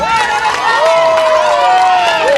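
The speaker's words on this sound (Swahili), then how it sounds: "Tupigie mheshimiwa wetu Bwana Orero makofi" Crowd at an education centre visit in Kibra, Nairobi, applauding and cheering for a dignitary, a loud continuous wash of clapping and voices with a tonal whistle or voice rising above it throughout.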